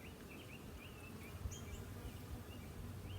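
Honey bees humming steadily inside a top bar hive during a swarm checkup, a continuous low drone close by, with faint individual buzzes flitting past and no talking.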